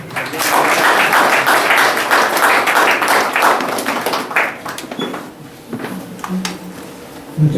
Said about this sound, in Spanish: Fuertes palmas, por favor.